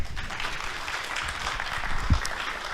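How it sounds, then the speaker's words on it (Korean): Brief, steady applause from a conference audience welcomes a speaker to the stage, an even wash of clapping with no talking over it. "박수로 모시겠습니다"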